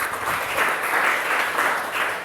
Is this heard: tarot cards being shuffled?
no